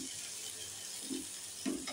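Paneer frying in spice paste sizzles steadily in a pan, with a couple of soft stirring scrapes and a faint voice in the background.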